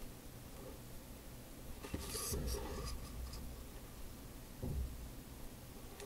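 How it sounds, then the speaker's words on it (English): A pen sketches a graph on paper in a few quick scratchy strokes, faint and close, in a quiet room. "So just sketching the graph to get the solutions."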